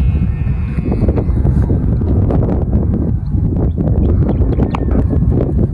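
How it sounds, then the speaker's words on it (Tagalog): Loud, steady wind buffeting the microphone while flying a kite, a constant low roar with gusty rumbling throughout. "malakas kasi ng hangin"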